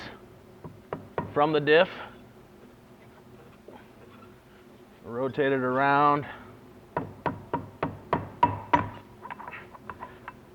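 Repeated sharp knocks from a rubber mallet striking a carbon fiber driveshaft to free it from the differential on a Scion FR-S / Subaru BRZ, a quick series of close, evenly spaced raps following stretches of talk.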